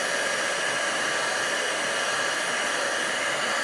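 A heat gun blows a steady, even whooshing hiss for the whole stretch while melting embossing powder on a stamped card, close and unbroken.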